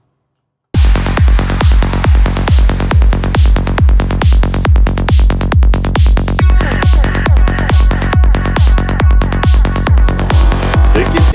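A trance track, in a remix, starts after a brief silence with a loud, steady four-on-the-floor kick driving under bright synth layers, continuous and heavily compressed.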